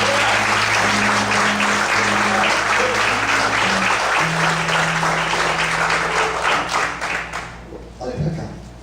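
A church congregation applauds continuously for several seconds, a dense loud wash of many hands clapping together, with a low sustained tone underneath and voices mixed in, fading out at the end.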